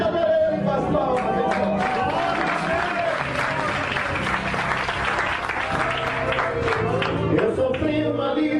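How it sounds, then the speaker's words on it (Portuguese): A church congregation claps steadily and loudly throughout, a dense continuous wash of many hands with voices mixed in beneath. "A igreja adora ele com as palmas."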